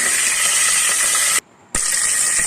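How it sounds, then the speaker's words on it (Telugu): Green chillies frying in hot oil in a kadai, a loud, close, continuous hiss and spatter with a brief cut to near silence midway before the sizzle resumes. "దీనిలో ముందుగా పచ్చిమిర్చి వేసి వేయించుకోవాలండి"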